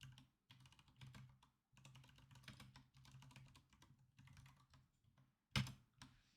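Typing on a computer keyboard: quiet, irregular runs of keystrokes with short pauses between bursts, ending with one sharper, louder key hit.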